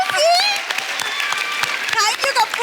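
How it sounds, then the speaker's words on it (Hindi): A studio audience at a television comedy talk show claps in a brisk burst while voices and cheering carry prominently over the applause. "जोरदार तालियां एक बार"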